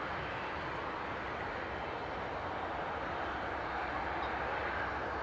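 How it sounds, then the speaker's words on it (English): A Ryanair airliner taxiing at Newcastle Airport, a steady broad engine roar held at a distance with constant rushing hiss throughout. "then we've got the Ryanair taxiing along now"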